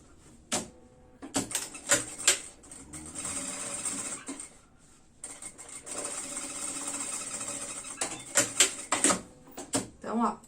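A sewing machine stitching a baby stroller bag runs in two long steady bursts of fast mechanical whirring, broken up by sharp clicks and clunks as the fabric is adjusted. The sound is close, and a voice talks at times.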